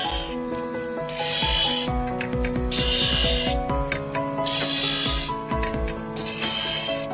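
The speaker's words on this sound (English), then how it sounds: "Now we are polishing the 2nd and 3rd tiers of the pavilion, which are entirely composed of facets." Garnet pavilion facets being polished on a lap, rhythmic swishing rubs in regular bursts over a steady mechanical whir and hum, close and without speech.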